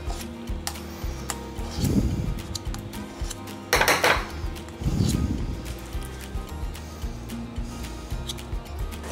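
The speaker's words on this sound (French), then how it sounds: "On va juste prendre comme ceci de la purée, vous voyez, sur notre cuillère." A spoon scoops smooth mashed potato onto a plate, giving a few soft, close scraping and clinking touches against crockery amid kitchen clatter, with no talk.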